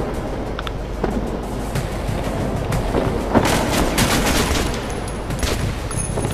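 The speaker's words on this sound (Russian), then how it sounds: "Контрольный выстрел в голову." Gunfire in Metro: Last Light, a first-person shooter played on Ranger Hardcore difficulty: a string of sharp, loud shots and bursts crackles irregularly over a low rumbling background, with no speech.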